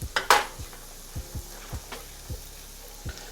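Minced garlic cooking in butter in a pan, a soft steady sizzle with a few clinks and scrapes of a utensil stirring at irregular intervals.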